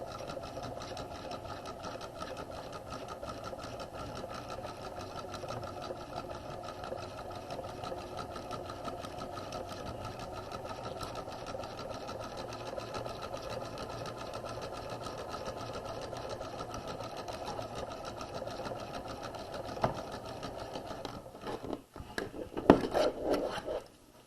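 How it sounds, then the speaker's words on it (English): A sewing machine stitches steadily across fabric seam allowances on a waistline facing, a continuous close, even mechanical whirr that runs for a long stretch before slowing and ending with a few louder knocks. "We want to make sure that our seam allowances are laying flat and open as we sew across them."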